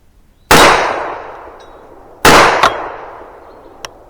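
Hi-Point pistol fired at steel targets: two loud, sharp shots, each followed by a ringing metallic clang that fades slowly, plus a quick secondary ping and one faint late tick, with no talking.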